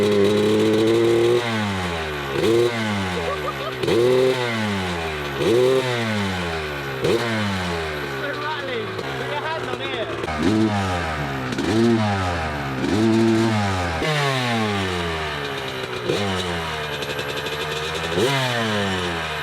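A 21-year-old Honda CR250 two-stroke dirt bike engine revs hard again and again, each loud rising blast falling back between throttle blips, close up and with no talking.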